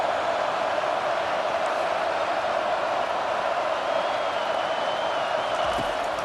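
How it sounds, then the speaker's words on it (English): Home crowd roaring throughout a College Football 25 video game broadcast, a steady dense wash of cheering and noise held at constant loudness with no break. "how nice is it to have the home crowd going absolutely bananas?"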